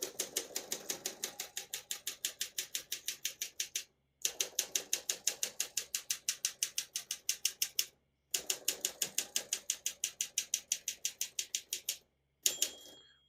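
Rapid keystrokes on a 1958 Olympia SM3 vintage portable typewriter, typed in three steady bursts of sharp, close clicks separated by short pauses, with a brief clatter at the end.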